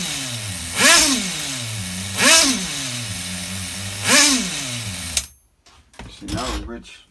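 The nitro engine of an HPI RS4 F150 RC car runs on the bench, idling with three loud rising-and-falling revs before cutting out briefly and sputtering back to a rough idle, close up.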